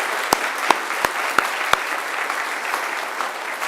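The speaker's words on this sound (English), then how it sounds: "I ask you to give them a round of applause too." Graduation audience applauding the academic staff, a dense steady wash of clapping with a few sharp, close individual claps standing out near the start.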